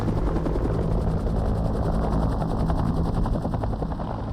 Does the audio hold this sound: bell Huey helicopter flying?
yes